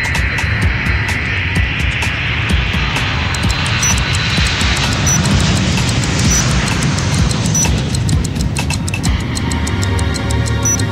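A cargo airplane at an airport produces a loud, continuous engine roar with a shifting whine and faint regular ticking, steady throughout without any voices.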